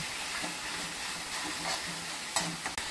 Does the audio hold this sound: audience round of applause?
no